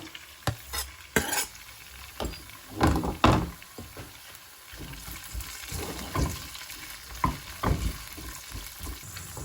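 Small tofu cubes fry lightly in a pan at home, a steady sizzle broken by repeated clatters of stirring and scraping, close and fairly quiet with no one talking.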